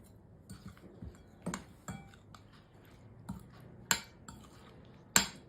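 A spoon stirs fermented chilies into a spice mix in a bowl, giving quiet, irregular clinks and taps, a few sharper knocks standing out over a soft background.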